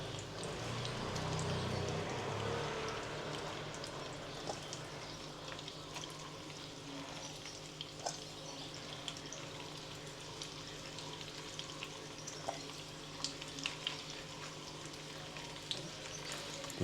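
Grated boiled potatoes pressed like a pancake fry in heated oil and butter, giving a steady close sizzle and crackle that swells early and then settles into a continuous hiss with small pops.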